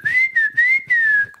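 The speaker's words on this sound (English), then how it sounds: "And we have a whistle, like a family whistle." A person whistles a family call, four clear sustained tones in quick succession, each gently rising or falling in pitch, loud and close with no talk.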